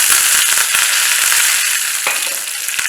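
Mustard seeds, urad dal and curry leaves sizzle in hot oil for a South Indian tempering, a steady close crackle dotted with sharp pops, with no voices.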